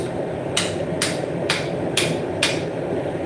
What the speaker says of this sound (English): you can use a metal hammer for this